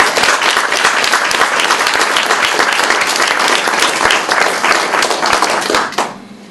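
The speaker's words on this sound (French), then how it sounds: "Je crois qu'ils méritent tous une bonne main d'applaudissements." Loud, dense audience applause at a community recognition of youth centres, steady sustained clapping from many hands lasting several seconds before fading out.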